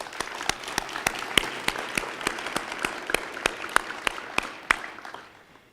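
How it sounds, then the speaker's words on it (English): A small audience at a university healthcare policy awards ceremony applauds, sparse individual claps ringing out in a steady patter that fades away near the end. "we should give her a round of applause in any case"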